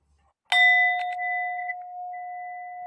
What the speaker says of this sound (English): She came in with the bell.